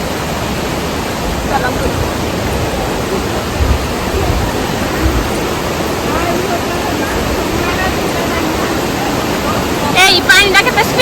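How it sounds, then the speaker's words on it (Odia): Fast-flowing water rushes steadily through a village stream, a loud, dense, continuous roar close by, with a brief spoken word and faint voices over it near the end. "ଦେଖନ୍ତୁ ପାଣି କେତେ ସ୍ପିଡରେ ଆସୁଛି"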